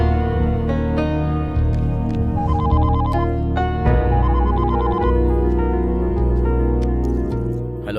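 A telephone rings in a Hindi-dubbed South Indian film, short bursts of a bright melodic ringtone repeating twice over a loud, steady musical backing.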